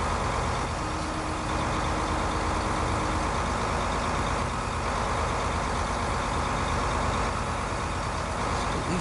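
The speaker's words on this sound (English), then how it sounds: "So these tractors do seem a bit loud still." Tractor engine in the video game Farming Simulator 15 on PS4, producing a loud continuous low engine drone that stays steady throughout.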